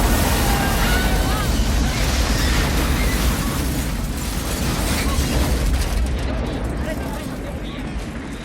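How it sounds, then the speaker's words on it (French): A film explosion from the action movie Double Team: a loud, sustained broadband roar and rumble that fills the whole clip, slowly easing off toward the end, with no talk. "Voyons d'abord comment Choi Ark filme une explosion dans Double Team."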